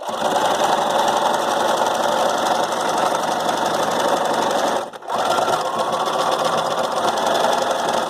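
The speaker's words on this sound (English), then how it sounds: "Make sure you're back stitching again, lift your needle up." A sewing machine back stitches a fabric comfort mask in a loud, steady whir that runs without a break, apart from one brief pause partway through.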